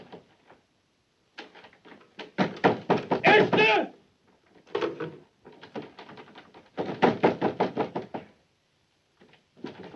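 Someone pounds on a door with rapid bursts of heavy knocking, several runs of hard blows separated by short pauses, close and loud, with a voice shouting between them.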